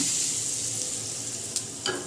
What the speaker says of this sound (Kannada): ಈ ಒಗ್ಗರಣೆನ ಇದಕ್ಕೆ ಚಟ್ನಿಗೆ ಹಾಕ್ಕೊಂಡ್ಬಿಡೋಣ.